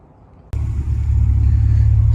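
A 1994–2001 Acura Integra engine cranks and catches abruptly after a quiet moment, then settles into a loud, steady low idle rumble close by, with the lean-running car's idle holding even.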